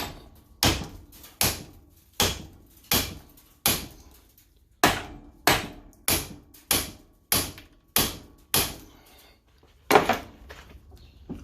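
A hammer strikes the spindle of a 1969 Mustang fastback in a steady series of about fourteen sharp metallic whacks, evenly spaced and close, each blow ringing briefly before the next.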